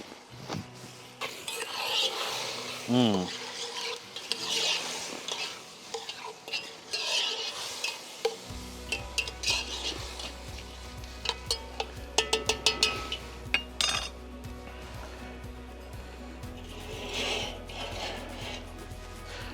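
Liver and kidneys cook in a pot for a sweet and sour dish, with close metallic stirring and scraping, clinks of a utensil against the pot and a low sizzle; no talk over it.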